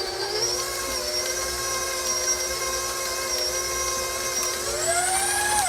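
An electric mixer whirs through banana nut muffin batter with yogurt and vanilla extract, a steady high whine that stays near and even, then rises in pitch near the end.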